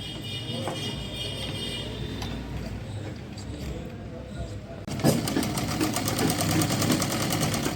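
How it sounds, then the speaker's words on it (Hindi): A sewing machine stitches along the piping of a baby suit (jhabla), running with a fast, even mechanical whir that grows louder and denser halfway through, close by. "पाइपिंग के साइड से सिलाई करनी है"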